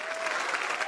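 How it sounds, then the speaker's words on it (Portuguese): Church congregation applauding during a religious service, a dense, steady wash of clapping that fills the whole short moment with a faint tonal hum running underneath. "Levante a mão, vamos aplaudir o senhor."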